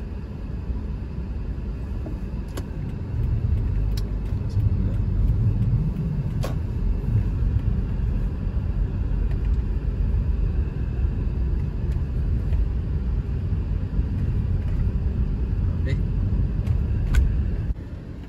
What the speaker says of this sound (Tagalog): traffic din.